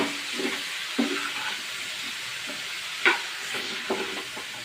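Malabar spinach seeds sizzle softly in a pan while being stirred, with a steady frying hiss broken by several scraping stirs and light knocks of the utensil against the pan.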